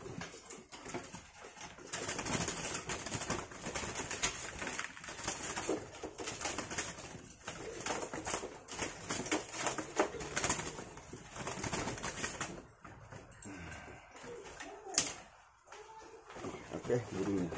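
A wild pitohui, the golden cucak emas Papua bird, being caught, with close rustling and flapping through dense handling noise as someone talks over it throughout.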